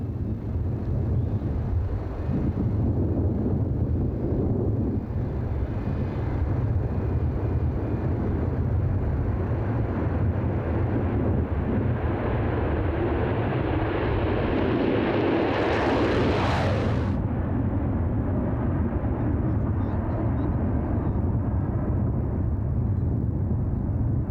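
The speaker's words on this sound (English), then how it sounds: "aircraft Golf Bravo Oscar Alpha Foxtrot took to the air for the very last time" The Concorde supersonic airliner takes off on its final flight over southern England with a loud, sustained jet roar that swells into a harsh, tearing peak partway through before settling back to a heavy, distant rumble.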